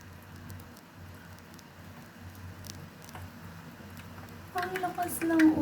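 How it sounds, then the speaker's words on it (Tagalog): Steady rain patters on a surface with a dense, even hiss, growing a bit louder and busier toward the end. "Ang lakas ng ulan."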